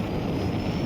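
A stealth jet in Battlefield 6 roars as a steady, dense engine rumble with a faint high whine, sounding continuous and moderately loud.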